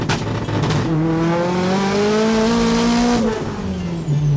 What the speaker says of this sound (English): ST204 Celica.